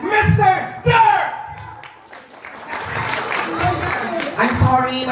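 Voices and shouting at first, then a crowd at a debut celebration breaks into applause with scattered cheers and clapping continuing under some talk.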